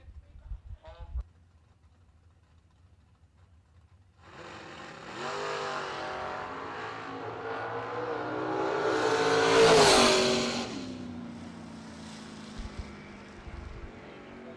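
At a drag strip, a Camaro and another race car launch from the line, engines roaring up from a low idle into a loud, climbing howl that peaks and then fades as they run away down the track.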